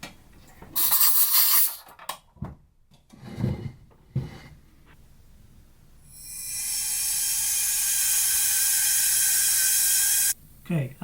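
A pressure pot holding a resin-filled mold hisses steadily for several seconds as it pressurizes, a loud continuous rush of air with a few scattered clunks and handling noises before it.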